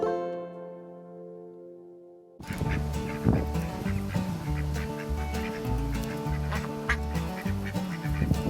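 Farmyard ducks quack loudly and repeatedly in a busy, overlapping chorus close by, after a brief sustained tone at the start; honking fowl calls mix in with no talking.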